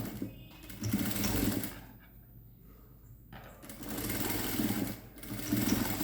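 A sewing machine stitches rope cord onto fabric in bursts of close, steady mechanical whirring, stopping briefly in between, with no voices.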